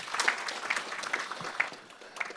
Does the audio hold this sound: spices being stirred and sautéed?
no